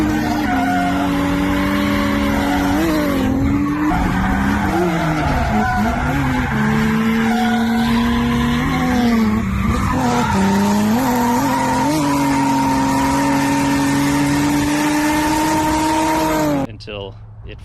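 A Nissan 240SX drifts at a local drift event, its engine droning loud and close with revs rising and falling while tires squeal continuously, then cutting off near the end.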